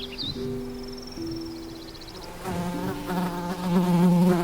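Insects such as bees buzzing in a wild meadow, a steady droning hum with wavering tones that swells louder and closer toward the end, no voices.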